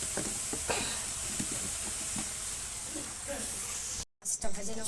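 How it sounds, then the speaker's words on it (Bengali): Katla fish frying in oil in a village kitchen, a steady bright sizzle running continuously at close range, broken by a brief silent gap near the end before the sizzle resumes. "মাছটা ভেজে নেবো।"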